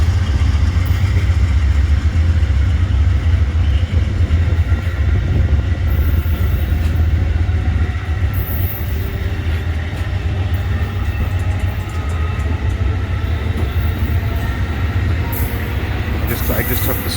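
A southbound Amtrak Floridian passenger train rolls through a Florida station, a loud continuous low rumble and wheel noise close by throughout, with faint voices underneath.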